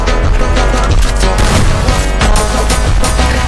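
Gunfire in a mobile battle royale video game, with loud, dense bursts of shots and booms packed together over a constant roar of game sound.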